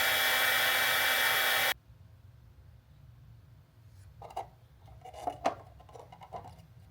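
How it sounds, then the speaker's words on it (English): A heat gun blows loudly and steadily, close by, while heating a bolt left in its threads. It cuts off abruptly after under two seconds, leaving faint scattered handling noises. "heat gun. Shouldn't need too much heat, but we are going to leave the bolt in there."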